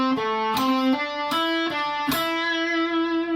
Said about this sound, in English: So the whole lick slowly sounds like this.